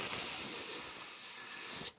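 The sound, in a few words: voice imitating a snake's hiss, the letter S sound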